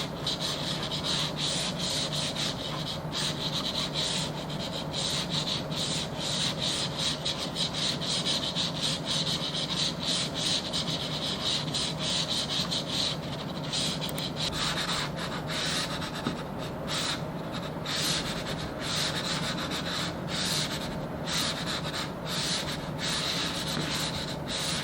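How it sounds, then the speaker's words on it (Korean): A mouse slides back and forth across a Pulsar Superglide glass mousepad, giving a continuous close rubbing, hissing scrape with quick repeated strokes throughout, steady and fairly loud, with no talking. "마우스를 이동할 때 소리가 좀 나요"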